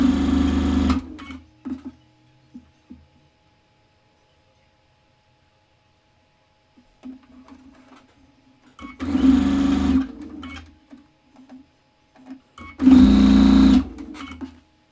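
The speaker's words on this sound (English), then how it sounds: "now it's time to do our next round at the sewing machine" Sewing machine stitching four-patch quilt blocks together, running in three loud bursts of whirring separated by quiet pauses and small handling noises.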